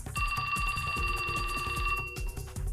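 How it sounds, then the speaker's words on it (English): A phone ringtone in the video game 428: Shibuya Scramble rings out as a repeating electronic trill of steady bright tones, loud and alone, over a low rhythmic musical backing. "a ringtone startled him out of his fury"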